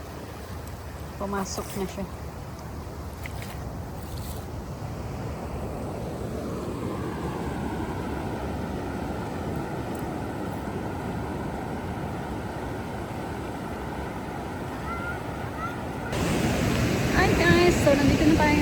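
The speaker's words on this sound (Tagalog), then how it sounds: "Yung alon ng dagat" Sea waves washing in a steady broadband roar, loud and continuous, swelling louder near the end, with a voice speaking briefly early on.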